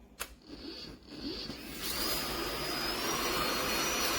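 A Bosch Unlimited 9 cordless vacuum cleaner runs with a steady whooshing hiss and whine, a few clicks and shifts early on, then settles into a louder constant drone, with no talking.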